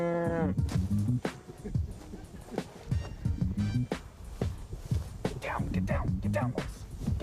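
Cattle moo repeatedly in a field, several drawn-out low calls close by, spaced with clattering and rustling between them.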